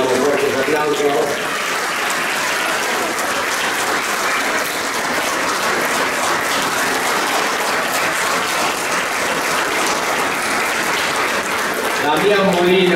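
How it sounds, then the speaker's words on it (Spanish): Loud, continuous applause from a crowd at a fiftieth anniversary celebration for 1974 champions, thick and unbroken for the whole stretch, with voices rising briefly at the edges. "fuertes aplausos"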